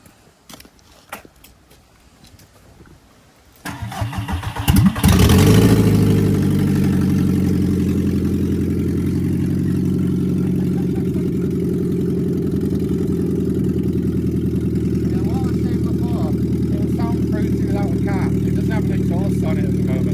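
Faint clicks and rustling, then a Volkswagen MK4 Golf engine cranks and catches, settling into a steady, rumbling idle that holds loud and even to the end.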